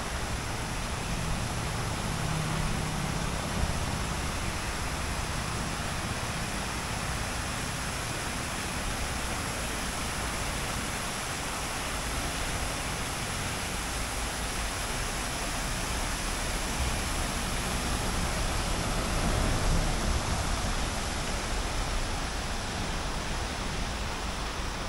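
Water flows steadily at the Palácio da Justiça in Brasília, making a dense, continuous rushing like a waterfall or fountain. It stays loud and even for the whole stretch, with no voices.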